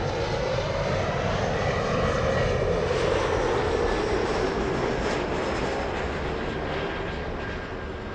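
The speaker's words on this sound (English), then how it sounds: "737 landing south right now." A Boeing 737 jet landing at LAX airport makes a loud, steady engine roar that swells and then eases slightly as the aircraft passes, heard alone without voices.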